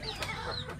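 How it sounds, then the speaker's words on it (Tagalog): Rhode Island Red pet chickens cluck in a brief, busy burst of overlapping close calls, slightly raspy and continuous. "Ganito po naman ang yung alagang manok."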